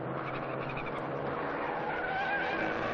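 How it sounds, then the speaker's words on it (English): Continuous high-pitched tyre squeal from Clio Cup racing cars at Circuit Paul Armagnac, Nogaro, steady and fairly loud over a broad engine roar, with no talking. "We heard some tyres squealing away."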